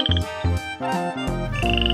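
A green frog croaks in a loud, close run of deep, throaty calls, each a quick rattling burst repeated about four times in two seconds, with no other sounds.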